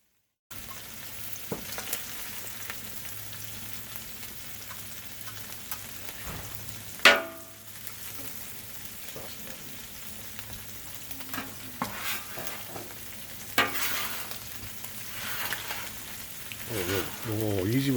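Potatoes frying on a BlackStone griddle give a steady close sizzle with scraping and stirring, a sharp clack near the middle and louder spatula scrapes toward the end.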